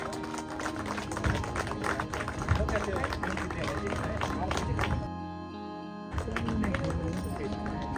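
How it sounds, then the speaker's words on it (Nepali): Wedding guests at a Christian ceremony clap loudly and steadily alongside music and crowd chatter, with the applause dropping out for about a second before resuming. "जोरदार ताली बजाउने छ हामी।"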